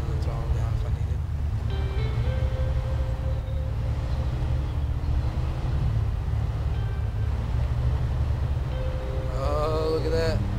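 Chevy 1500 pickup engine in SnowRunner, a steady low rumble as the truck climbs in third gear with feathered throttle and some wheel spin, continuous and close with someone talking over it.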